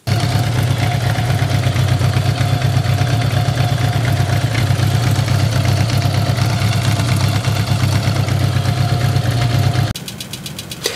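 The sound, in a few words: Honda GL1100 Goldwing motorcycle engine started and running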